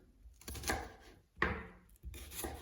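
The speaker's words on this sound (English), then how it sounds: "I don't like to cut up my onions too small" A knife slices through onions on a cutting board, cutting them into large pieces for soup: three separate chopping strokes, each with a crisp cut and a short scrape, close by and fairly quiet.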